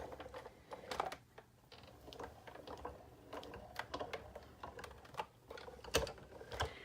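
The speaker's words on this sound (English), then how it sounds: "you always put the spine through first so it doesn't warp or crack your embossing folder." Cardstock in an embossing folder is cranked slowly through an embossing machine, giving a run of quiet, irregular clicks and ratcheting taps close by.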